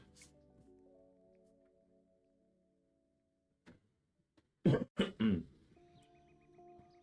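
Someone getting over a cold coughs a few times in a short, close cluster, breaking an otherwise quiet room with faint background tones.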